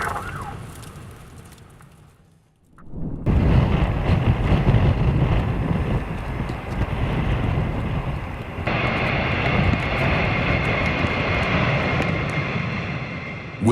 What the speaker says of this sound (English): the captain brought the aircraft down safely